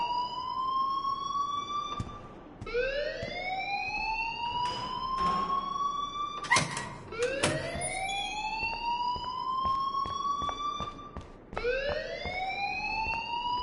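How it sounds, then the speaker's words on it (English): A school alarm in the video game Life is Strange sounds loud and close, repeated rising electronic whoops cycling every couple of seconds, with some scattered noise in between. "please turn off that alarm since that's your job"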